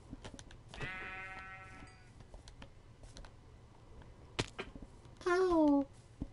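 Two wavering sheep bleats in Minecraft, one early and one louder near the end, among scattered clicks and soft background noise.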